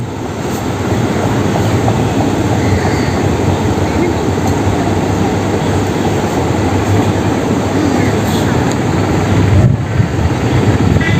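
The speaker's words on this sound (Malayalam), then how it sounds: "അത് അടുത്ത ട്രെയിൻ ഇതാ പോകുന്നു" A train rumbles past at close range near Uthralikavu temple in Thrissur, a loud, continuous roar with rhythmic rattling of wheels and cars throughout.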